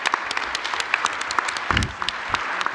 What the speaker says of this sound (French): Je crois qu'on peut tout à fait applaudir Marie-Grâce Luce